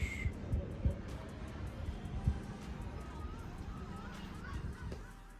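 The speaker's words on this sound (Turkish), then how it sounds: "Martılar." Seagulls cry out in scattered honking calls at a distance, heard from a hotel balcony in Istanbul, over a low outdoor background with faint knocks.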